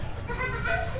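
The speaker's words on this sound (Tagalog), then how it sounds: "Yan, naglalaro yung mga bata." Children play outdoors in a rainy covered area, their high voices mingling in a brief, busy murmur of shouts and chatter against a steady background wash.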